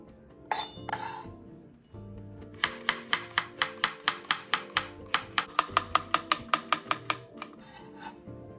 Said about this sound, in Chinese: 接着切成2至3毫米的薄片。